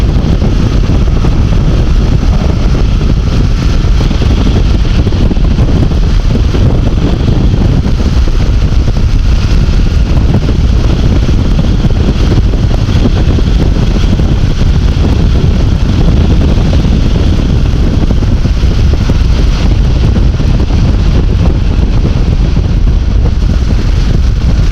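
A vehicle running at highway speed on its first ride after a repair, with steady, loud broadband wind roar and low rumble filling the whole stretch, no voices.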